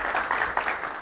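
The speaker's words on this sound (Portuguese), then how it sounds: "uma salva de palmas para o Thiago" A short burst of clapping from a meetup audience after a talk, brisk and continuous for about a second.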